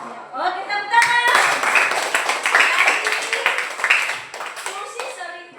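A class of children clap their hands together in a classroom, brisk uneven clapping for several seconds, mixed with children's voices and an adult speaking at the start.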